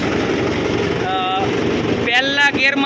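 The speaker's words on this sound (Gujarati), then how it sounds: "આ મહિન્દ્રા 475 સરપંચ ટ્રેક્ટર છે, જેની અંદર આપણે ડ્રાઈવરને પ્રેમજીભાઈ આપણા સાથીદાર તરીકે અને આપણે પહેલા ગેરમાં" A Mahindra 475 tractor engine runs in first gear with a continuous throbbing drone, and voices briefly rise over it toward the end.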